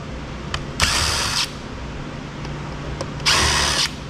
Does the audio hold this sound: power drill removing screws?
yes